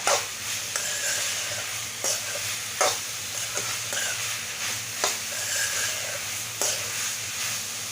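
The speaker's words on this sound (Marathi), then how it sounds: "आणि परत जरा परतून घेऊया आणि झाकून ठेवायचं" Masala for masala pav stirred and sautéed in a pan, with a steady sizzle and repeated scraping taps of the spoon against the pan at irregular intervals, heard alone without talk.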